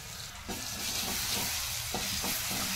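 Mustard seeds splutter and crackle in hot oil in a pan, a steady close sizzle with sharp little pops scattered through it, and nobody speaks.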